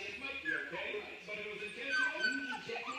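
Young puppies whimper and yip while playing, with high, thin cries repeating through the whole stretch, close and moderately loud, as a person talks over them.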